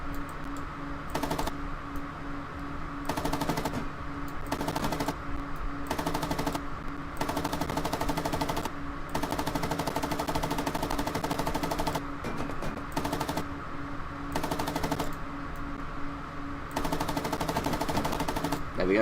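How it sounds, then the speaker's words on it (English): Tank machine gun fire in a PC tank combat game, long rapid bursts of closely spaced shots broken by short pauses, loud and close throughout, with a voice talking over it. "I'm probably going to machine gun this gunner"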